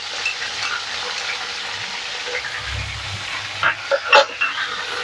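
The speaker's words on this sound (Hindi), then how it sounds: "3 मिनट के लिए फ्राई कर लेंगे" Chicken pieces with salt and ginger garlic paste frying in a pan for a bhindi gosht dish, a steady broad sizzle with a few brief stirring scrapes near the end, no talk.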